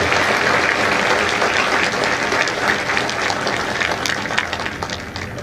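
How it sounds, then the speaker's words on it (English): A crowd at a Marine Corps recruit graduation ceremony at MCRD San Diego applauds the families of India Company, producing loud, sustained, dense clapping that holds steady throughout. "Ladies and gentlemen, please join me in a round of applause for the families of India Company."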